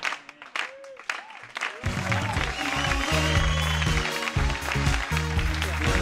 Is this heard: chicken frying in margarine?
no